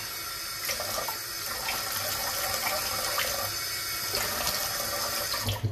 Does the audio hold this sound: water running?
yes